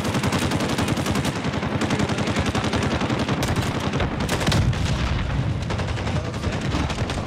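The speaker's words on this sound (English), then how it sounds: "People are shooting for no reason." Video game gunfire from a Call of Duty Vanguard trailer, with dense rapid automatic bursts and heavy booms forming a loud, continuous barrage of battle noise.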